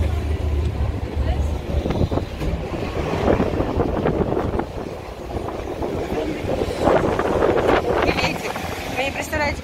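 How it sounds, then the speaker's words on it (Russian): Strong wind buffets outdoors on a hot street, a loud continuous rushing roar with gusty swells across the whole stretch and no clear voices. "Интересная погода, жарко, ветер."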